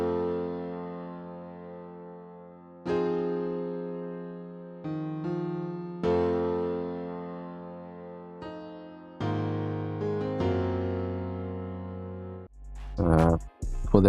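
A keyboard MIDI part plays through the FL Keys plugin in FL Studio for a dark Detroit-style beat: sustained, ringing chords change every second or two, with a burst of glitchy, choppy notes at the very end.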